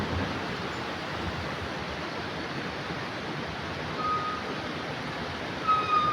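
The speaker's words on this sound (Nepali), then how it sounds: "यो चाहिँ लापा खोला होला हो माथि लापा गाउँ छ" Steady broadband rush of the Lapa river flowing below a hillside village, a continuous water roar with no voices, holding an even level throughout with a slight swell near the end.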